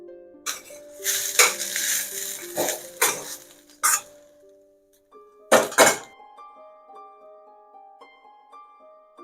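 Chicken fried rice being served onto a serving plate gives clinks, thunks and scrapes of a utensil against the dish in short clusters, with soft background music underneath.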